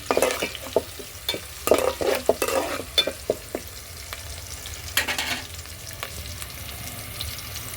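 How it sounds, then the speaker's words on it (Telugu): Spices sizzle in hot oil as they are tempered for a dal, while a spoon scrapes and stirs the pan in irregular bursts, close and fairly clear. "ఉన్నాడుతోనే తాలింపు వేసుకుంటున్నాను"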